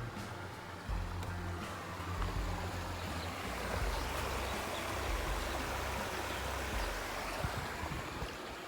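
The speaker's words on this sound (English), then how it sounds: "This is the creek or runoff from small Little Crater Lake." Clear creek runoff from Little Crater Lake along the Pacific Crest Trail on the Warm Springs Indian Reservation, a steady close rushing babble of flowing water, continuous and even with no voices.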